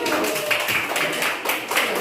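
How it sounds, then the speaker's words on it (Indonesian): A primary school class in Indonesia claps for a pupil, giving a short burst of brisk, steady applause from many small hands that fills the room for about two seconds. "Oke, tepuk tangan buat Erwin."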